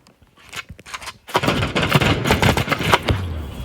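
Gunfire from a gun in the mobile shooter Battle Prime: a few scattered shots, then a loud, sustained rapid burst, close and dominant, with no voices.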